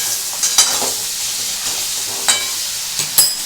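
Hing (asafoetida) stirred in hot oil in a pan for a Bengali aloo paneer curry, a steady bright sizzle broken by a few sharp scraping clinks of the spoon, close and fairly loud, with no talking.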